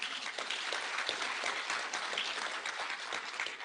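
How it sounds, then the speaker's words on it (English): Audience applause at an International Women's Day celebration attended by President Uhuru: dense, steady clapping from a large crowd that carries on without a break. "Can we give her a clap?"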